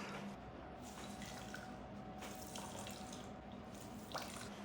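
Liquid drains from grated zucchini squeezed one handful at a time in a kitchen towel, a faint steady trickle and splatter like running water with a small drip near the end and no voices.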